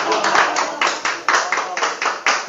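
A lecture-concert audience at a magic show claps in an irregular burst of hand claps, close and fairly loud, each clap sharply spaced.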